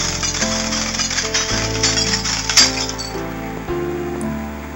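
Chiming clinks of glass blocks being placed in the SurvivalCraft video game over sustained background music tones, with one sharper bright ping near the middle.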